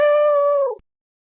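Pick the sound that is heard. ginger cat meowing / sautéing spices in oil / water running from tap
ginger cat meowing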